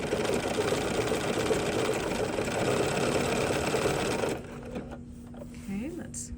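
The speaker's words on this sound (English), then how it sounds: "I'm going to make a little mitered stitch into that corner, and then I'm pivoting around." A sewing machine running steadily while stitching a mitered corner on fabric for a circus bag, a continuous loud mechanical whir that stops abruptly partway through, followed by quieter handling sounds and a brief voice.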